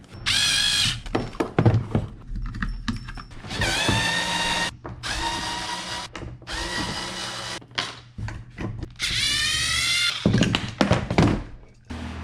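A power tool loosens the steering hardware on a Native Propel kayak fitted with an aluminum steering handle. Three separate whirring bursts come close up, with a few clicks and knocks between them.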